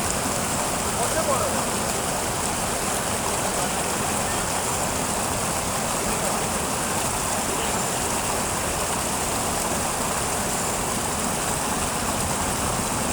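Crystal-clear water rushing steadily over stones, a continuous broadband wash that stays loud and unbroken throughout, like a nearby stream or small cascade.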